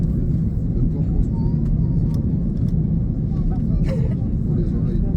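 Corsair SS926 airliner taking off from Orly, a steady, loud low roar of engines heard from inside the cabin, with occasional voices and small clicks over it.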